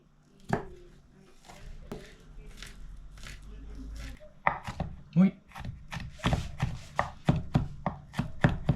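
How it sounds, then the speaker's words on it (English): A knife chops an onion rhythmically on a cutting board, sparse strokes at first and then faster, crisp repeated cuts, close to the microphone. "so I can chop up the onion"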